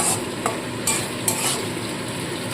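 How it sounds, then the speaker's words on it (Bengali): Spice paste for a pointed gourd curry being stir-fried in oil in a pan, a continuous close sizzle broken by a few sharp scraping strokes of the spatula, with no voices. "মশলাটাকে এবার ভালো করে কষিয়ে নেব খুব ভালো করে মশলাটাকে কষাতে হবে তেল ছেড়ে আসা পর্যন্ত"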